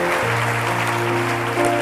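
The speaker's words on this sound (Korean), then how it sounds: "선생님께도 박수 한번 부탁드리겠습니다." An audience at a teachers' healing camp applauds a teacher, dense steady clapping running through the whole moment over sustained background music.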